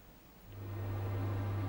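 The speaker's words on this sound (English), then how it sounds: "that's my boiler working again" A home boiler runs to heat water, a steady low hum that swells in after a brief pause and then holds, with no talk over it.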